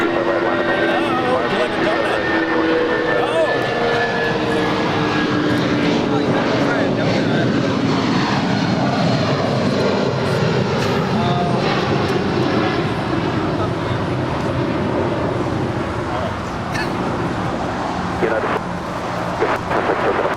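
An airliner at Los Angeles International Airport (LAX) rolls and climbs out on runway 25 right. A loud, steady engine roar and rumble hold throughout, with a faint air-traffic radio voice underneath.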